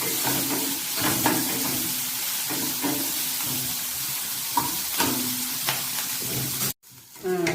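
Onions sauté in a pan, a steady close sizzle broken by repeated scraping stirs of a spatula, brief quiet break near the end, then the sizzle resumes faintly.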